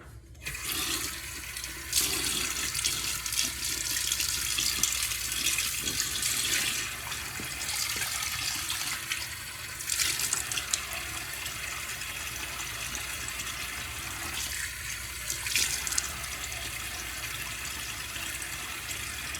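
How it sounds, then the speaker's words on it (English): Tap water runs steadily into a sink while a face is wetted before a shave, a continuous close splashing flow with brief surges and no talking. "John, let me get my face wet."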